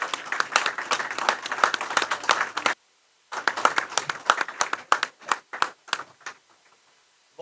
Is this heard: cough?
no